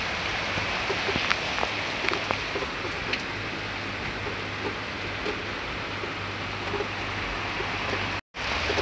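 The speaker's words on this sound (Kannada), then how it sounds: "ನೋಡಿ ಗೈಸ್ ಹೆಂಗೆ ಬರ್ತಾ ಇದೆ ಮಳೆ." Rain pours steadily in a dense, even hiss, with scattered drips and taps standing out, broken by a brief dropout near the end.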